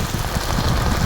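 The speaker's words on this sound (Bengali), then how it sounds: "বৃষ্টির শব্দ ছাতার মধ্যে পড়তেছে, আরো বেশি শব্দ হইতেছে।" Heavy rain patters densely and steadily on an open umbrella, close and loud, with no voices.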